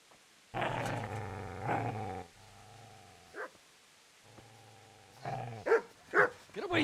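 A dog in the medieval game Kingdom Come: Deliverance growls at a man, two long loud rumbling growls followed by lower sustained snarls, then sharper yelping barks near the end, close and alone with no talk.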